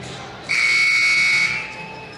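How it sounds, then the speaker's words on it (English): A loud, flat electronic buzzer sounds for about a second over crowd noise at a boys' basketball championship game, then cuts off. "there's the buzzer"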